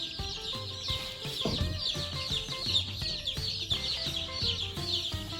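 Meat chicken chicks on a farm chirp constantly in a dense, overlapping chorus of high peeps, close by and busy, with no talking.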